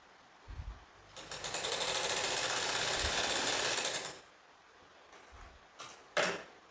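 A sewing machine runs in one steady burst of about three seconds, stitching the curved edge of a halter neck princess cut blouse, with handling knocks and fabric shuffling before and after, no speech.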